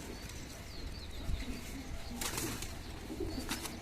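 Pigeons, including a silver pigeon chick, coo softly at a home loft, with low repeated calls over a continuous background hum and occasional faint chirps.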